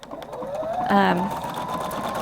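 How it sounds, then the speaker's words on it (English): A Husqvarna Viking Designer Brilliance 80 sewing machine stitches decorative patterns, a steady mechanical whir with a short rising whine, heard up close and alone. "you can stitch these beautiful stitches and add your crystals to them"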